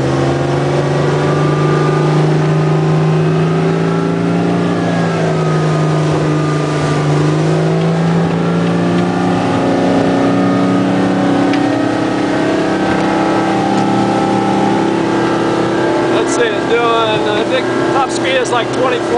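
Original straight-six inboard motor of a 1968 20-foot Skipjack open boat running steadily with a loud, continuous droning hum that shifts pitch slightly, with a person talking over it.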